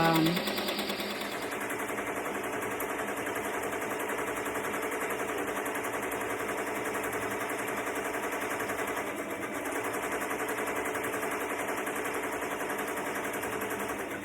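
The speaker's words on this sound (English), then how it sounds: "We're just waiting for the design to stitch out." Ricoma MT1501 embroidery machine stitching out a design, a dense, continuous rapid mechanical chatter that stays steady and loud close by for the whole stretch, with no talking.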